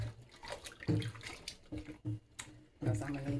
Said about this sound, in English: I hate to pour out my nice hot water, but I ain't got no choice.